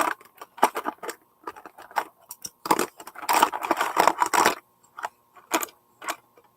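Irregular clattering and clicking of pencils being picked up and dropped off a desk, in scattered bursts, close and moderately loud, with no talking.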